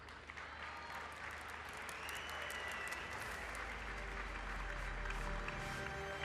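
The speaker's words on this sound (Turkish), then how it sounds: "Onu da alkışlıyoruz." An audience applauds the President at the launch of a domestic car, a continuous, distant-sounding wash of clapping that holds steady for the whole stretch.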